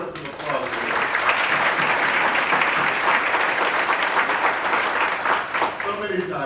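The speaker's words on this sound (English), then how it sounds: "Give us some applause for" An audience at a student recognition event gives sustained, loud applause with some voices mixed in, fading slightly at the end.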